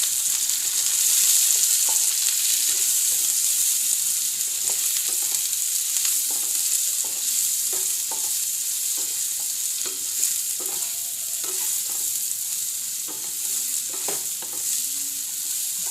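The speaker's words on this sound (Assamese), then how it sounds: "এতিয়া অকমান সময় মই ভাজিম" Turmeric, cumin, coriander and Kashmiri red chili powder fry in a pan with a constant close sizzle, while a spatula scrapes and taps repeatedly through the mixture and nobody speaks.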